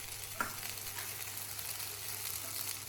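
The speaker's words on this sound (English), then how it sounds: "When the pan is hot, add the broccoli and edamame." Broccoli and edamame sear in a hot oiled pan with a steady, soft sizzle and faint crackle throughout, close but quiet, with no talking.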